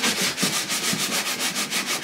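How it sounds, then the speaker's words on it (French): An electric sander works the surface of an old wooden adventurer's trunk, a steady abrasive rubbing with a pulsing rhythm, close and continuous throughout. "de vibrer au rythme de la ponceuse électrique"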